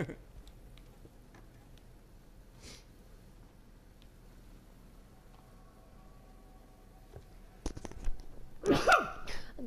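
After a long quiet stretch with faint ticking, a single loud sneeze bursts out close by near the end, followed by a short spoken reaction.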